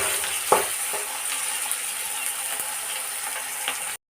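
Chopped onions fry in hot oil in a wok with a steady, bright sizzle close up, broken by a few sharp clicks of stirring. The sound cuts off abruptly at the end.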